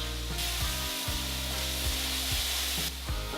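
Green onion stems sizzle loudly in a hot pan of quinoa fried rice, a steady, dense frying hiss throughout with a low tonal hum running underneath.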